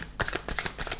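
A brief, close riffle of tarot cards being shuffled, several quick papery bursts in a row with no talking.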